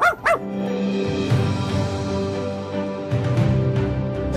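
A small dog gives two quick yips up close, followed by a long, drawn-out whimpering whine that rises and falls, heard alone and loud.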